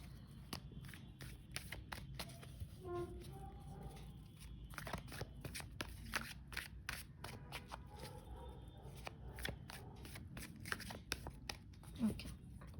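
Tarot cards being shuffled by hand for a reading: a steady run of quick, crisp card riffles and soft flicks, fairly close, with a faint voice murmuring in the background.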